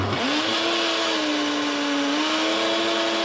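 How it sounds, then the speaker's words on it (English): A loud kitchen blender whirs at high speed, blending a berry smoothie with a steady, droning motor whine that shifts slightly in pitch as it runs, no voices. "I'm going to press the button to start the blender. It's very loud."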